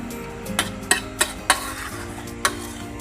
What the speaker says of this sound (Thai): ผัดไปแสบแขนไปครับ